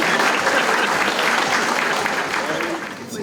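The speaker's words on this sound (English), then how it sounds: "Give yourself a round of applause." Guests at a chancellor's scholarship gala give themselves a sustained round of applause, a loud, dense roar of clapping from a large crowd that tapers slightly at the end.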